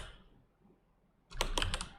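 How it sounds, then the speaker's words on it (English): Rapid keystrokes on a computer keyboard come in a short burst of close, crisp clicks after a second of near silence. "You see me typing it, right?"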